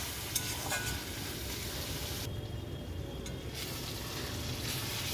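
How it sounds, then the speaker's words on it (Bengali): Cumin paste and spices sizzling steadily in a hot pan as they are stirred, a continuous close frying hiss with faint scraping throughout, in a village kitchen. "এর মধ্যে দিয়ে দিলাম জিরে বাটাটা দেওয়ার পর আবার কিছুক্ষণ নেড়ে নেব।"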